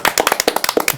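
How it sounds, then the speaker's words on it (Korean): A studio audience claps in encouragement, a quick, dense burst of close, sharp handclaps lasting about a second with no talking. "이상호 기자를 위해서 우리가 격려의 박수 한번"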